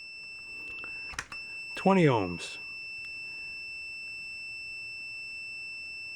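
A multimeter's continuity beeper sounds as a steady, unbroken high tone while an automotive fuse is tested, and someone briefly speaks a reading over it.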